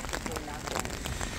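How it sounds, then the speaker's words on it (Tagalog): Heavy rain pours down steadily outdoors near a bus stop, a dense continuous hiss of drops pattering on surfaces, close and loud throughout. "Rain, go away."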